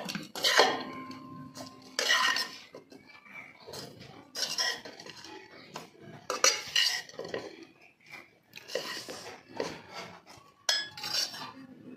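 A spoon stirs a raw green tomato chutney mixture with salt in a bowl, giving repeated clinks and scrapes against the bowl in irregular bursts, fairly close and moderately loud, with no talking.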